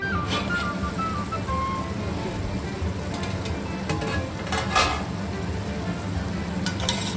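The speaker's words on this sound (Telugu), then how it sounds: "ఇట్లా పులుసు మనకి ఎంత కావాలో అంత హై ఫ్లేమ్లోనే పెట్టేసుకొని దీన్ని బాగా కాసేపు మరగనిద్దాం" A pot of tamarind fish curry, pulusu, bubbles and sizzles on a high flame, a continuous close hissing boil with occasional small pops.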